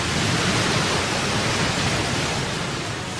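The tidal bore on the Qiantang River churns as one continuous, dense roar of rushing water, loud and unbroken throughout.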